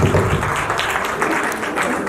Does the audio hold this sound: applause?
yes